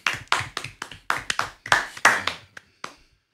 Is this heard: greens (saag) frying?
no